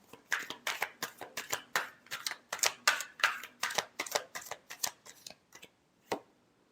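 A deck of tarot cards being shuffled up close, a quick series of crisp riffling flutters and soft snaps in an irregular rhythm, trailing off into a few final taps.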